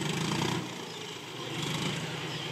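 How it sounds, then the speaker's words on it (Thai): A John Deere 5055E tractor with a 55 hp three-cylinder engine pushes soil on a field, giving a steady, moderately loud engine drone that rises and dips slightly as it works. "ตัวนี้รุ่น 5055E ครับ55แรงมา3สูบ"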